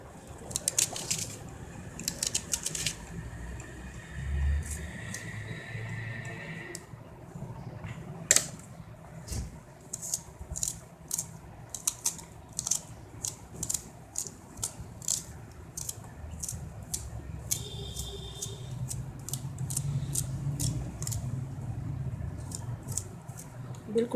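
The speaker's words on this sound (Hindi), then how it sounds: "बिल्कुल छोटा छोटा प्याज काटना है हमें।" A knife chopping onion into small pieces on a board, a long run of quick sharp taps with short pauses, close and fairly faint over a low background hum.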